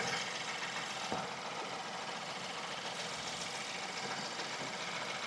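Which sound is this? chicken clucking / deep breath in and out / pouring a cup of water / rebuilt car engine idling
rebuilt car engine idling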